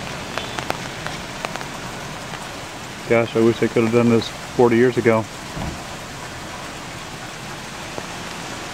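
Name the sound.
rain falling on a street in Capitola Village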